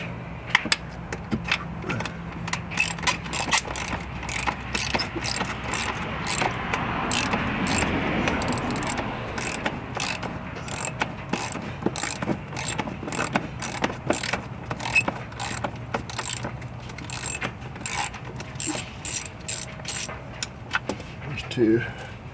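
A hand ratchet drives small 10 mm bolts while fitting flat fenders on a Jeep Wrangler, giving rapid bursts of close, crisp clicking in an uneven rhythm, with faint voices and light metallic rattles in the background.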